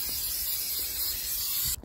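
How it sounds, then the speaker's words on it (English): Contact adhesive sprayed from an aerosol can onto a replacement floor panel during an RV slide-out floor repair: one close, steady hiss lasting almost two seconds that cuts off abruptly, with no talking. "So I just have to spray both sides with the contact adhesive."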